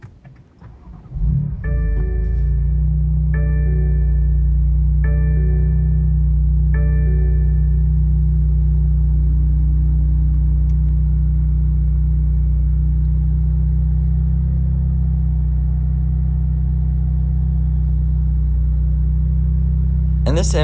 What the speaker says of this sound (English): hit the red start button located in the dash to go